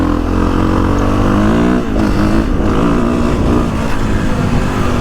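A 2021.5 KTM 450SXF Full Factory Edition dirt bike engine revs loudly and close by, its throttle rising and falling in steady bursts at a motocross track.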